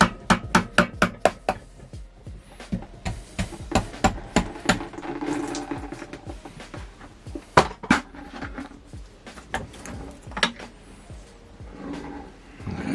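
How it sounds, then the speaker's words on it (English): Hammer blows on the bolts and engine parts of a Ford Fiesta MK5 Zetec S engine under rebuild; sharp metallic strikes come in quick bursts, irregularly spaced and close, with quieter clatter between. "A little bit of persuasion from the old hammer."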